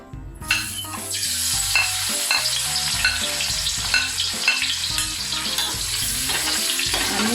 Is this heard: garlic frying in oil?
yes